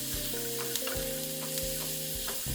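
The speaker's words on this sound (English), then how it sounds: "So as you can see, the food started burning," Honey chicken burning and sticking in a cast iron pan, frying with a steady close sizzle and crackle over a low hum, no talk.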